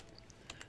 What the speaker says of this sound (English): and I'll type in